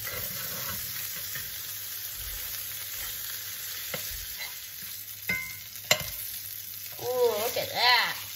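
Cusk fish fries in butter in a pan with a continuous bright hiss and crackle, a few utensil knocks partway through, and a voice heard briefly toward the end.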